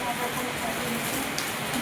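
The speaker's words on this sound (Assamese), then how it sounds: "ইমান জোৰে বৰষুণ দিছে" Heavy rain pours down steadily, a dense, continuous hiss that stays loud and even throughout with no break.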